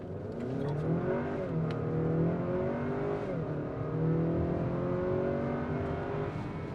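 A 2020 Acura RDX inline-four engine revs hard in manual first gear and Comfort mode, climbing steadily through a gear, loud and close, with a smooth rising whine and no talking.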